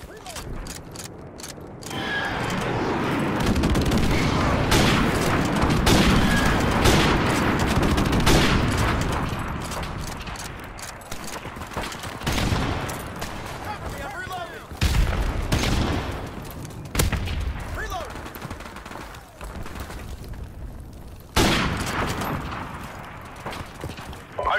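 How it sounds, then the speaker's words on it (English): Friendly airstrike in Modern Warfare Remastered, loud explosive booms and bursts of automatic gunfire rolling through a dense battle soundscape, with radio voices speaking over the din. "Friendly airstrike on the way."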